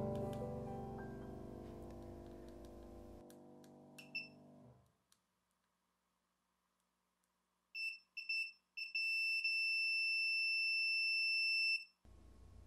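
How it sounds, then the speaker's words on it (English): A few short beeps from a multimeter continuity test on a microcontroller's pins, then a longer steady high-pitched beep held for several seconds after a stretch of near silence. "until you hear a beep"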